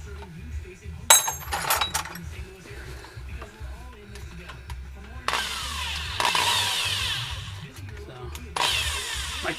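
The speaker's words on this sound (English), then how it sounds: "I'm gonna use the drill to go back and forth and just kind of work it back and forth" A power drill whirs in short bursts, reversing back and forth to work a stuck bolt loose during a 2005 GM 4T65-E transmission replacement, with metallic clinks and a longer steady run near the end.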